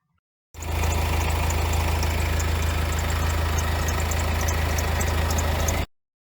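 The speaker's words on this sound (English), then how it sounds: "It's recently had a very nasty sound coming from the engine," A 2012 Subaru Forester engine idles steadily with a faulty tensioner pulley on the drive belt, giving a constant low drone overlaid with a rattling, knocking whine, close and continuous with no talking.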